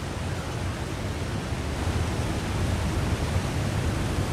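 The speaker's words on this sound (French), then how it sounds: "Il doit y avoir une énorme cascade" A roaring waterfall in The Long Dark video game, heard alone as a steady, loud, broadband rush of falling water with no pauses or voices over it.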